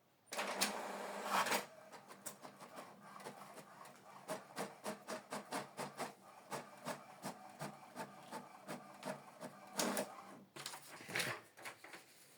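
An HP Deskjet inkjet printer runs through a test page: a burst of mechanical whirring, then a steady series of rapid clicking, sliding print-head passes, ending with louder feed noises.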